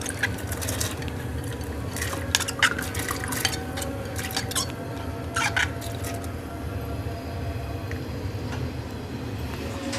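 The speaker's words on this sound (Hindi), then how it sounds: "तो अब हम इसमें दाल डाल देंगे।" Moong dal tipped into a pan of boiling water, with a steady low rumble of bubbling and scattered drips and splashes of liquid throughout, no talking.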